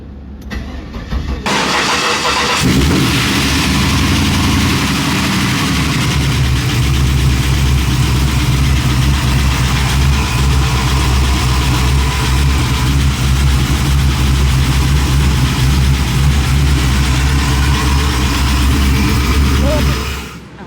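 A Fiat Panda with a swapped engine cranks and fires up, then settles into a loud, steady idle close by that runs for about eighteen seconds before cutting off.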